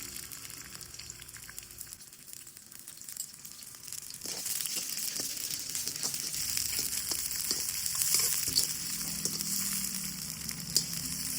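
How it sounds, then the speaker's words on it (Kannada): Green chillies fry in hot oil in a hotel kitchen for chilli chicken. A quiet hiss builds into a light, crackling sizzle with scattered pops and faint scrapes. "ಹಸಿಮೆಣಸಿನ್ಕಾಯಿ ಕ್ಲೀನಾಗಿ ಸ್ವಲ್ಪ ಬೇಯಬೇಕು ಅಲ್ಲಿ ತನಕ ಫ್ರೈ ಮಾಡ್ಕೊಳ್ಳೋಣ"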